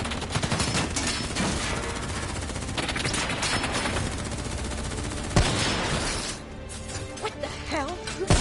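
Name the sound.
gunfire in video game Call of Duty Black Ops III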